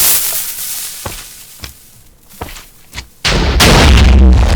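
A TNT cannon in Minecraft fires with several sharp, evenly spaced blasts, then a large, loud, sustained explosion roars in at the end.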